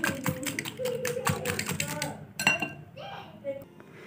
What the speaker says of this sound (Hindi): अच्छे से इसको फेंट लेंगे इस तरीके से, ताकि ये आपस में बिल्कुल मिक्स हो जाए